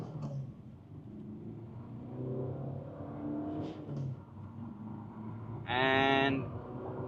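Diesel engine of a Kia Carens Clavis with manual gearbox accelerating hard from standstill to 100 km/h, a steady droning rumble heard from inside the car, rising and swelling near the end as revs climb.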